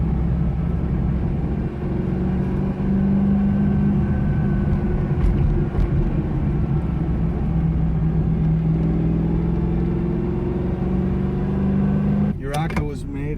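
Lamborghini Urraco sports car on the move, a steady loud engine drone and road rumble filling the cabin throughout, with a brief rise in noise near the end.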